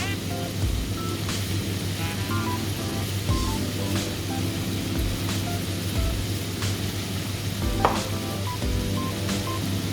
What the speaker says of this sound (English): we just got the onions, carrots and celery sizzling away here